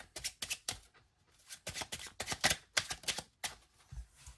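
A deck of playing cards is shuffled by hand in repeated quick riffles and pulls, a rhythmic series of crisp papery bursts, close and fairly quiet, with no talk.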